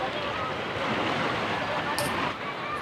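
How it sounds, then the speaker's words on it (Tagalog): Sea waves washing at a beach resort shore, a steady broadband rush of surf close to the microphone, with faint wind and a brief sharp sound near the end. "Ang sarap magtampisaw dito sa dagat."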